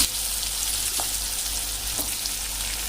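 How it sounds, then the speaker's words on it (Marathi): Chopped large onion goes into hot oil already holding mustard seeds, cumin and turmeric, giving a steady, loud, close sizzle throughout with faint stirring clicks. "तेल छान गरम झाल्यानंतर मोहरी टाकूया, जिरे टाकूया, थोडीशी हळद टाकूया आणि आता जो आपण मोठा कांदा चिरून घेतलाय तो टाकूया"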